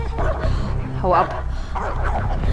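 Dogs barking and yipping during a chase sequence in the video game Beyond: Two Souls, several quick barks over a steady game soundscape, with someone talking throughout.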